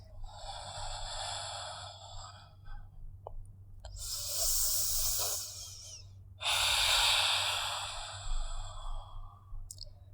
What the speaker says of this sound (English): Breathing in and out through the nostrils